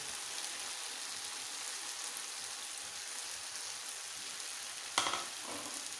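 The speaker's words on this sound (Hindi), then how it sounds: "भिंडी को मिक्स कर लेते हैं।" Fried okra being mixed into masala in a pan, a continuous low sizzle with a sharp clack of a spoon against the pan near the end, quiet and close.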